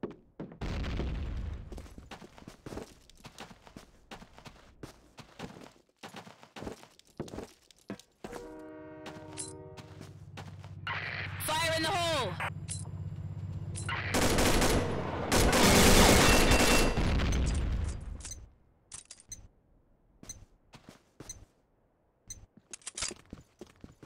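Combat Arms online shooter match with rapid bursts of gunfire and heavy grenade blasts. The fire rolls through the middle of the clip, with a loud sustained stretch of booms and crackle. Scattered clicks and thuds come before and after it, and there is no talk.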